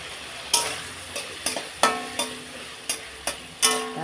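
A spice paste with green chillies cooks in a pan under a soft sizzle, broken by about ten sharp spatula knocks and scrapes in an uneven rhythm, close by and with no talking.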